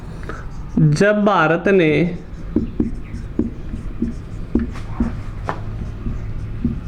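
A teacher writes notes during a Class 10 social science lesson on economy, making a steady run of short, evenly spaced scratchy strokes after a brief burst of close speech at the start.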